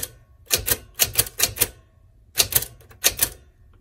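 Bursts of crisp keystrokes clack on a WRMK typewriter, one group of about five strikes, a pause, then another quick run of strikes, close and loud, with no voices.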